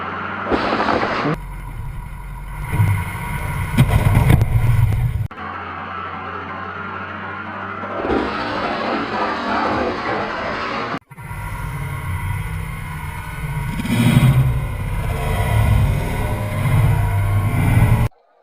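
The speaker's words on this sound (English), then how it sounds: "I was with bated breath watching that Trico case get run over by that Ford" A Ford vehicle rumbles loudly and drives over a Trico case, with diesel engine noise close by, cut into several segments that carry heavy broadband engine and crunching sound throughout.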